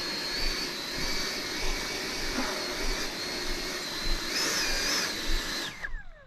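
A Freewing Vulcan 6s electric ducted-fan radio-controlled jet flies on a calm, windless afternoon, giving a steady high-pitched whine with a rushing roar that swells and fades as it passes, then cuts off near the end.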